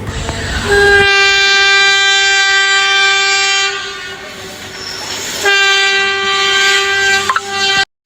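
A train passes close by, sounding a loud sustained horn twice with a short break, over rumbling wheels.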